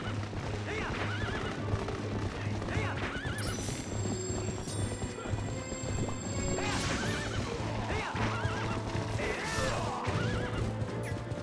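A horse whinnies several times over the steady clatter of hooves, with game-style music and effects running underneath, from Zelda: Twilight Princess at Hyrule Castle.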